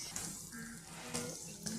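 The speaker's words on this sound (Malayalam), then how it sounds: "വറുത്തെടുക്കാം." Cashews, almonds and raisins frying in hot ghee in a pan, a soft steady sizzle with light stirring scrapes and a few brief clinks, fairly quiet and close.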